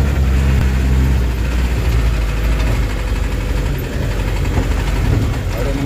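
A Mitsubishi-engined minibus climbs a rural mountain road in West Java, its engine giving a steady, close, low rumble with rough idling vibration throughout.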